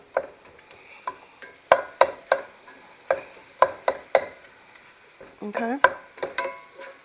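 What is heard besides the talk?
ground meat being minced and fried in a pan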